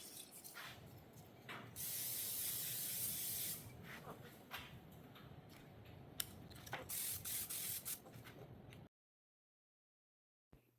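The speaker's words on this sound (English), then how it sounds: "We're going to spray these, and just like we sprayed everything else." Bursts of aerosol spray hiss close by onto ceramic fish pieces, one long blast followed by several shorter ones, then the sound stops abruptly.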